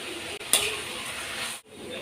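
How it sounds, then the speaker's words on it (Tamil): Greens being sautéed in oil in a pan, with salt added, for a Tamil-style puliccha keerai dish: a steady close sizzle with soft stirring scrapes, one sharper clink near the start, and no voices. "எண்ணெயில் நல்லா வதங்கட்டும் உப்பு போட்டு வதக்கலாம்"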